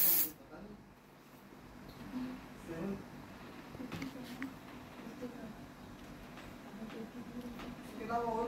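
An aerosol smoke-test spray hisses in short, faint bursts at a fire detector on an INIM addressable fire suppression panel setup, its soft noise mixed with a loud blast at the start and low background sounds.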